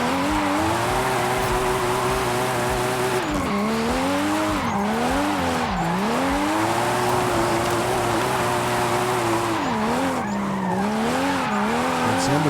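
A rear-wheel-drive car drifts in the Forza Horizon 5 video game with traction control off, its tires squealing loudly and continuously over a wavering engine note that rises and dips through repeated slides.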